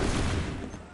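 Musket volley in Assassin's Creed 3, a single dense, rumbling burst of many shots fired together, loud and close, fading within a second.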